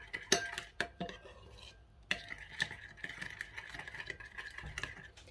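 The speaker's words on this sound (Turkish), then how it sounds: "Hepsini güzelce karıştırıyorum." Potato salad with dried mint being stirred in a bowl, a spoon clinking and scraping against the sides in uneven strokes with several sharper knocks, close and fairly quiet, with no talking.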